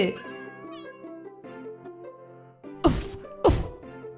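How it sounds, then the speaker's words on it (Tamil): A cartoon cat meows in a series of plaintive, wavering cries, followed by two sharp thuds, with no other background noise. "meow meow"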